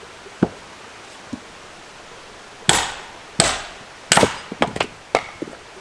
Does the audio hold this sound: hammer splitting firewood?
yes